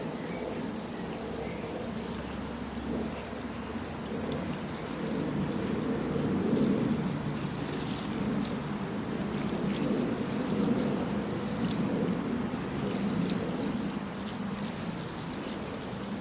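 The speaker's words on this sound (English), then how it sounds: "I'm going to water this now. So this is water straight out of the river." River water from a watering can pours onto garden plants in a Belfast sink, a soft, continuous splashing stream that runs steadily and quietly for a long stretch.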